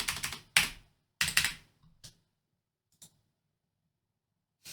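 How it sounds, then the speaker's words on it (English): Quick bursts of keystrokes sound on a computer keyboard, three clusters in close succession, followed by a few isolated taps separated by quiet gaps. The typing is close and crisp, with no talk. "Let me type 11 to see if that works."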